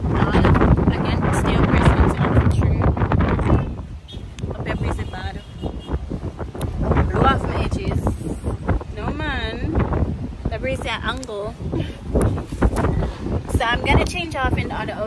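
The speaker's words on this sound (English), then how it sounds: "I'm on the rooftop, so maybe that's why it's so breezy." Wind gusts across a rooftop and buffets the microphone in loud, uneven bursts, while a person talks over much of it.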